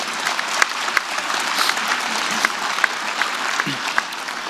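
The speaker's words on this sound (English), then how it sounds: "Vous pouvez les applaudir." Audience applause at the United Nations Climate Action Summit 2019 fills a hall: dense, steady clapping from a large crowd that holds at an even level throughout, with a few sharper claps standing out.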